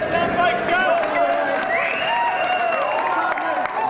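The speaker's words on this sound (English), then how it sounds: "give them a practice round of applause" Lively crowd applause with cheers and whoops, dense clapping continuing steadily throughout.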